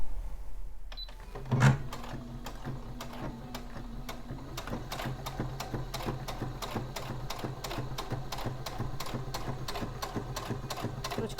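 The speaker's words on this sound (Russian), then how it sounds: "И прокладываем строчку на швейной машинке." A sewing machine stitches a dress seam in a quiet room, a brief whir at first, then a steady, rapid mechanical ticking that runs evenly for several seconds, close and clear with no talk.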